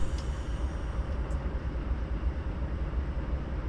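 A train in Train Simulator 2017 on the Miami–West Palm Beach route pulls forward with a steady low rumble and rolling noise, continuous and moderately loud, with no talking.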